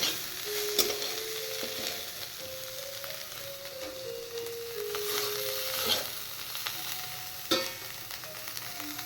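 Prawns with salt fry in hot oil in a pan, a constant crackling sizzle with sharp spits and pops, plus scraping clicks of stirring scattered through, close and steady.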